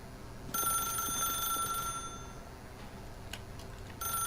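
A telephone rings in the video game The Stanley Parable, its bright electronic trill in two bursts separated by a quiet gap, with no talking.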